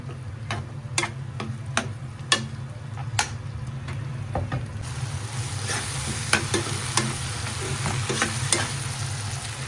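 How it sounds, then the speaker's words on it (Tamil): Tomatoes, garlic and ginger saute in a pan, giving a low steady sizzle broken by crisp, regular spoon taps against the pan that come roughly every half second, alone and fairly close. "இஞ்சி பூண்டு லைட்டாக வதங்கிக்கட்டும்."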